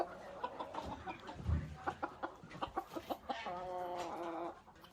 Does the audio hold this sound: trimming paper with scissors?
no